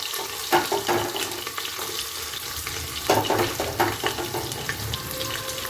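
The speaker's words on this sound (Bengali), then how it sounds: "এবার কিছু কুচনো কাঁচা পেঁয়াজ দিয়ে দেবো, দিয়ে ভালো করে ভেজে নেব।" Chopped raw onions frying in a pan with bay leaf, cardamom, cinnamon and cloves, giving a continuous close sizzle broken by bursts of stirring and scraping.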